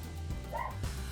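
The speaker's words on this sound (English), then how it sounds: "I apologize for my dog in the background" A dog indoors gives a few short, yipping barks in the background, close by at moderate volume, two or three quick bursts in about a second.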